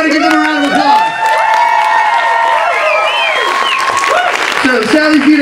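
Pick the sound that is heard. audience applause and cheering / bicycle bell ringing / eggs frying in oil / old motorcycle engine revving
audience applause and cheering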